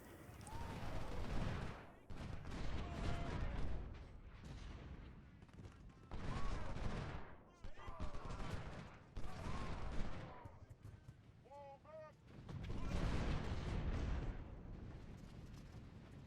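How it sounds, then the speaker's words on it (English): Artillery cannon fire in the Civil War strategy game Ultimate General: Civil War, repeated distant booms and rumbling volleys over battlefield ambience, spread across the stretch in irregular bursts. "The only thing that's irritating, this artillery unit right here,"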